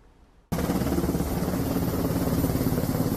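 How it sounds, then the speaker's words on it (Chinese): After a quiet moment, a Black Hawk military helicopter swoops down to land during a Han Kuang drill at Taoyuan airport, its loud rotor chop thudding steadily and close. "黑鹰直升机俯冲降落，刮起阵阵强风"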